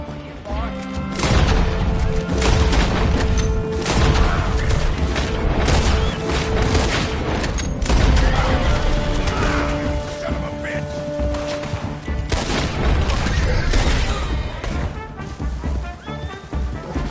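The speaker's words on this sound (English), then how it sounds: "That explosion came just in time." Loud, dense explosions and crashing booms in a PS4 action game, continuous rumbling blasts layered with gunfire-like bursts and debris, with voices talking over the chaos throughout.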